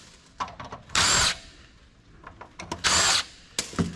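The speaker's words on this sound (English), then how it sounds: "So I just unscrew everything." Cordless power drill unscrewing screws from the case and power supply of an old Hewlett Packard desktop PC, two loud sustained whirring bursts separated by light clicks and handling knocks, close by with no talk.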